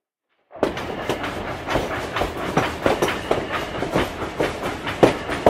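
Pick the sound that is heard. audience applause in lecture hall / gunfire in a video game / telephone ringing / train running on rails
train running on rails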